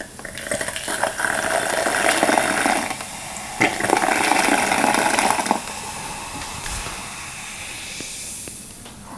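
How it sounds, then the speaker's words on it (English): A pressurized hiss of carbonated water spraying from an early Sparklets soda syphon into a cup, running steadily for several seconds with short breaks and small clinks. "We've got a cup here, and we'll see about dispensing some water."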